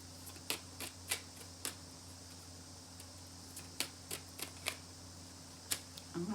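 Tarot cards being shuffled and drawn in quiet surroundings, a series of soft, crisp card snaps and flicks at irregular intervals, close and faint.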